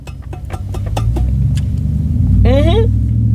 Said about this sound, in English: Here's a shit ton of traffic right now.